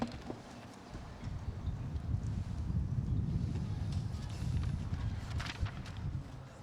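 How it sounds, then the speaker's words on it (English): Blustery wind buffets the microphone with a steady low rumble throughout at an outdoor commencement ceremony, and no one speaks. "It's windy."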